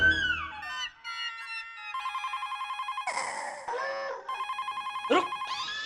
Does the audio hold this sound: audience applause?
no